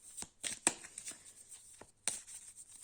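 Oracle cards being laid down and slid over a spread of cards, a run of close, crisp papery shuffles and slaps with a sharper flick near the start and another toward the end.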